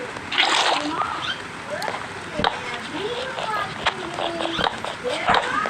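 Water poured from a bucket in Minecraft, splashing and sloshing in short bursts over a lively game soundtrack while someone talks throughout.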